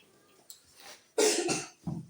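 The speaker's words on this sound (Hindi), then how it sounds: "खांसी होने वाली है हमको सॉरी" A single person coughs once, close and sharp, with a few quieter breathy sounds around it.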